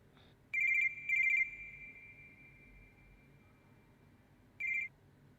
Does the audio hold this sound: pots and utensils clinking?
no